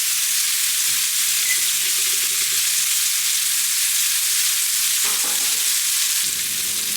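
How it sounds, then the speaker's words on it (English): A meat fat cap sears in a frying pan during home cooking of a complete meal, giving a loud, steady hiss of sizzling fat that runs through the whole stretch with no talk over it. "if you sear the fat cap before you flip it on the other side, that it won't curl"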